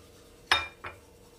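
A metal lid is set onto a pot of chicken tehari with boiling water, giving one sharp clink and a softer second knock, close and brief against a quiet background.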